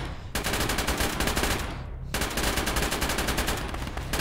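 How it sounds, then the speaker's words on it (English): Armored BTR vehicles in the military game ARMA fire their guns in sustained automatic bursts, a dense continuous rattle of gunfire with a brief lull before the shooting resumes. "BTRs are firing on the A10."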